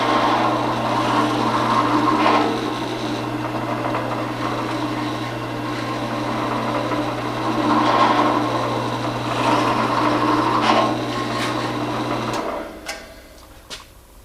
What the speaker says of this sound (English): So I'm just going to pre-drill these and get it set